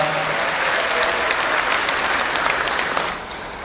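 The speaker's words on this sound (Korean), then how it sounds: "여러분 큰 박수로 환영해 주시면 고맙겠습니다" Sustained applause from a crowd welcoming a speaker at a lecture event in Gwangju, a steady, dense patter of many hands clapping close by throughout, easing slightly at the end.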